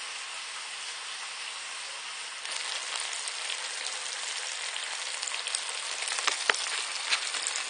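Chorizo and chickpeas sizzle steadily in a hot pan, a dense crackling fry that turns louder and busier partway through, with a few sharper spits and pops near the end and no talking.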